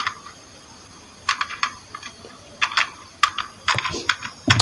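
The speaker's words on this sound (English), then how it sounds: "Well, I don't mind my typing." Bursts of keyboard typing, clattery keystrokes in quick irregular clusters with short pauses, fairly close over a low steady room hiss.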